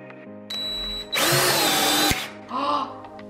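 A power drill pre-drilling a pilot hole in hardwood runs in three loud, close bursts, the middle one longest, with a steady whine between short pauses and no talking.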